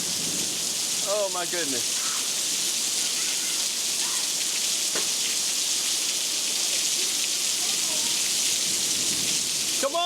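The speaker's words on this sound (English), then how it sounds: "Come on, get out the rain." Heavy rain pours steadily in the rural American South, a dense broadband hiss with a faint low rumble that may be thunder, while people shout and talk excitedly nearby.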